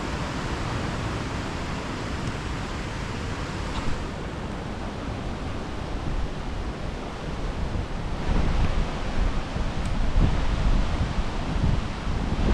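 Torrents of water pouring down at Cotter Force waterfall, a dense unbroken roar filling the whole clip, close and loud with slight swells, no voices.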